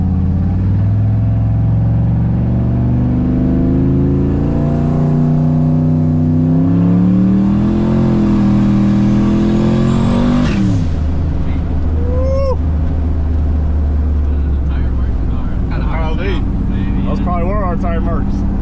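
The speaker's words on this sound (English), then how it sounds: "Quick little pulls on the truck." A single-turbo 5.3 Silverado pickup pulls hard, its engine roaring loud and continuous as the revs climb, then dropping off sharply before further bursts of engine noise.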